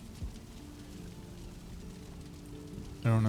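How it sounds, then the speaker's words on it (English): Soft, steady patter of rain in the Viking survival game Valheim, a faint continuous hiss ending with a sudden louder tonal burst. "I don't know if the rain will affect them."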